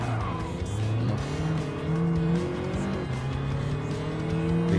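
Race car engine drone with tire squeal and skidding from a collision with another car in Gran Turismo 7 on a French circuit, loud and continuous, with the engine pitch rising and falling throughout.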